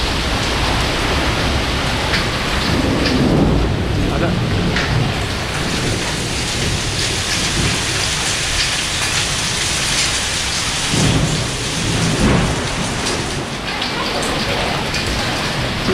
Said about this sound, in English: You can hear the hail bouncing off the...